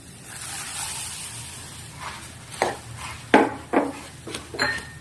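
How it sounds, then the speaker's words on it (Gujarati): Puffed rice goes into a pan for garlicky sev mamra, with a soft rustle building before several sharp clinks and scrapes of utensils against the pan, close and moderately loud. "હવે આપણે એમાં મમરા એડ કરીશું."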